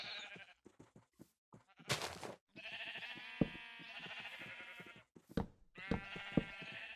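Sheep in the Minecraft video game bleat repeatedly in a quavering, nasal way, with several overlapping calls close and clear and short gaps and clicks between them.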